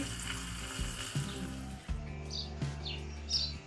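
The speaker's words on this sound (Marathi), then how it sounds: "ही फोडणी आपण आपल्या ढोकळ्यावर टाकायची आहे" Tempering for rava dhokla with curry leaves and coriander sizzling in hot oil, a steady crackling sizzle that cuts out abruptly and returns in short bursts, with faint chirping in the background.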